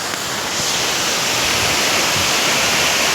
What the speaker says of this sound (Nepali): झरना चाहिँ बवाल तरिकाले झरे